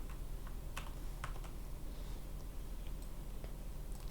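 Steady typing on a computer keyboard while entering R code for survival analysis, with scattered quick key clicks over a constant background hiss and no voices.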